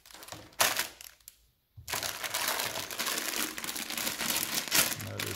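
A plastic bag of LEGO Spike Prime parts crinkles loudly and steadily close by, a brief pause interrupting the continuous rustling.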